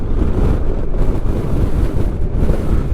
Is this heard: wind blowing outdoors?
yes